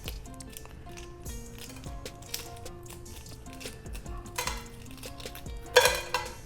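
Hard boiled egg being peeled in a kitchen: light crackling and small clicks of shell breaking, mixed with faint clinks of dishes and cutlery, quiet and close, with a brief louder rattle near the end.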